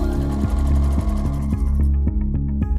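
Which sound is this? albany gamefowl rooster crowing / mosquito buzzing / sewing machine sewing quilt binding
sewing machine sewing quilt binding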